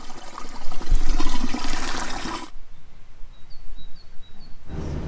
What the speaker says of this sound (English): But now just taking a couple buckets of water so we don't take our hose